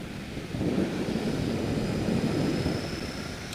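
Wind roaring over the microphone while riding a Royal Enfield Interceptor motorcycle, a steady low buffeting rumble with a faint engine drone beneath it, rising slightly after the first half second.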